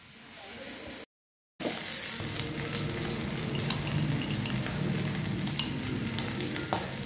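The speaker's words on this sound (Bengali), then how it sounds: "এক চামচ জিরে গুঁড়ো, তার অর্ধেক ধনে গুঁড়ো, মানে হাফ চামচ ধনে গুঁড়ো দিয়ে একসাথে আবার কষাব" Ground cumin and coriander powder sauté in a pan for a vegetarian aloo dum, making a continuous, even sizzle with light stirring clinks and a brief cut-out near the start. No one speaks.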